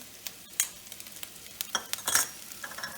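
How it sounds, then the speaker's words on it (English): A spoon stirs a spiced cilantro mixture with sugar, salt and garam masala in a pan, giving intermittent scraping strokes over a faint sizzle, close and fairly quiet with no talk. "Give it a stir"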